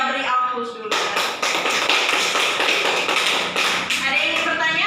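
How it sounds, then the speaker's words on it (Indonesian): Applause from students in a classroom during a seventh-grade religious studies lesson: dense, continuous clapping from a group close by, breaking out abruptly after a brief spoken line and holding steady for several seconds. "Ya, beri aplaus dulu."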